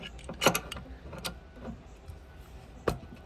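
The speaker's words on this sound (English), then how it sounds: "make sure it's tight with the wrench" A wrench tightens a fitting on a ductless mini split line, giving a few sharp metallic clicks and clanks spread unevenly between quiet pauses, close and fairly faint.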